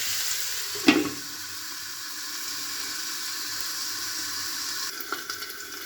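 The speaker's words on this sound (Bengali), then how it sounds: "আলুটা দুই মিনিট ঢাকা দিয়ে ভেজে নেব" Potatoes frying in a covered pan for mixed vegetables give a steady, moderate sizzling hiss throughout, with a sharp clatter near the start and a few light knocks near the end.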